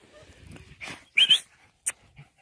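Dogs being praised and called on a walk, giving a couple of short yelps or whimpers amid faint movement and a brief sharp sound, fairly close and moderately loud.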